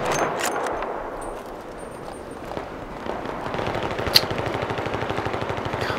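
Gunfire in Battlefield 3 on the Tehran Highway map: a sharp shot near the middle, then a steady run of rapid, evenly spaced reports over constant battlefield noise, with no talking.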